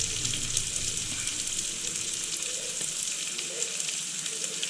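Chicken with spices frying in a pan gives a steady, close sizzle and crackle, a continuous hiss with small pops and no voices.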